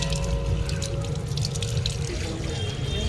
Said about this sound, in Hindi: एबे हमें हाथ धोइबा